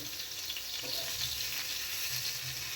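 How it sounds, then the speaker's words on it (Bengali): Eggplant slices fry in oil in a pan, producing a constant, fairly soft crackling sizzle heard close up, with no talking. "একদিকে বসিয়েছি বেগুন ভাজা"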